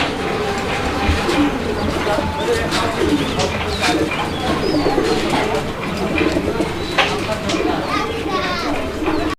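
A pair of red Mukhi pigeons coo at a fancy-pigeon farm in Bangladesh, soft repeated calls set amid busy loft chatter and someone talking throughout.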